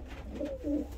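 Pigeons cooing in a loft, with two soft, low coos close together over a quiet background hum.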